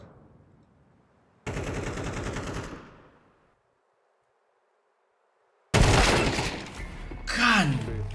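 Gunfire in the video game Counter-Strike 2 comes in two loud bursts of rapid shots separated by silence. The second burst carries a sharper crackle as it fades.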